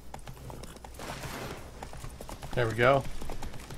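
Hooves of Roach, a horse in The Witcher 3, clip-clop at a steady trot beneath a man's speech, with a louder voiced burst near the end.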